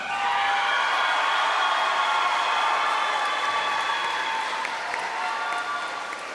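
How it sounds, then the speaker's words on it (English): Class of 2024 graduates at a high school commencement ceremony turn to the audience and applaud, producing a loud, sustained wash of clapping from a large crowd that holds steady throughout. "clap and thank your families"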